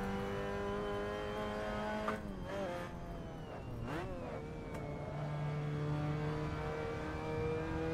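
A race car in a Nürburgring racing game drones at steady revs, its engine pitch dipping and climbing through a couple of quick gear changes before settling into a sustained, moderately loud hum.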